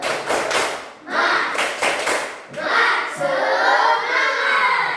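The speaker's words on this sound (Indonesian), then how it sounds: "Kita tepuk semangat dulu." A group does an Indonesian 'tepuk semangat' cheer, clapping together in quick rhythmic bursts, pausing between patterns, then voices call out together near the end.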